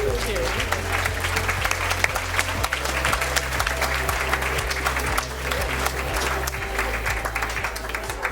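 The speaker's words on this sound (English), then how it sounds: "Give them a nice clap as they leave the stage" Steady applause from an awards-ceremony audience at a care awards event, dense and continuous clapping filling the room for several seconds at an even level.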